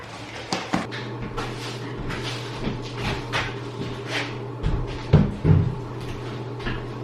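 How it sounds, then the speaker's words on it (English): An old door in an abandoned 1925 house is handled and shifted, giving scattered wooden knocks, bumps and scrapes over a low, steady hum. "Should I take this door right now?"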